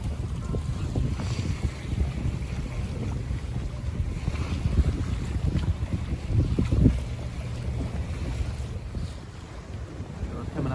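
A north breeze blows while a sailboat races past Alcatraz in San Francisco Bay. Steady wind rumbles against the microphone over the wash of water and hull noise, with no talking.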